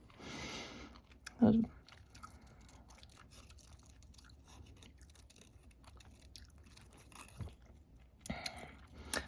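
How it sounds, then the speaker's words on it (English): Tapioca pearls from bubble tea being chewed close to the mic, with wet, squishy mouth sounds and a few louder bites over quiet room tone. "Excuse my chewing. I got tapioca pearls in my bubble tea today."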